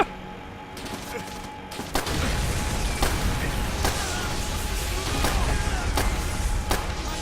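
Explosive charges and gunfire crack repeatedly in a World War II shooter game, sharp loud bursts punctuating a dense, continuous roar of battle noise.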